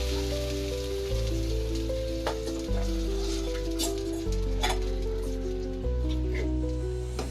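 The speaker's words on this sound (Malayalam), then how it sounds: "അതിനുശേഷം ഈ കലക്കി വെച്ചിരിക്കുന്ന കൂട്ട് അതിൽ ഒഴിച്ചു കൊടുക്കണം." Mixture for ginger pachadi hissing and sizzling steadily in a hot pan, a constant crackling fizz with faint scattered pops, heard close and alone under a droning background hum.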